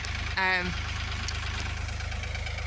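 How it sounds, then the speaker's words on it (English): A tractor engine idles steadily on a farm in rural Ireland, a constant low pulsing rumble that runs throughout, with a brief voice-like harmonic sound rising over it near the start. "Just got the tractor running."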